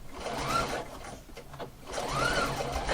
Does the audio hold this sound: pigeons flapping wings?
no